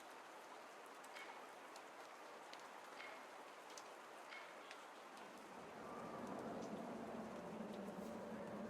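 Steady rain falls in the video game Rue Valley as a soft, even hiss with scattered drop ticks, fairly faint throughout and thickening into a fuller, heavier wash over the last few seconds.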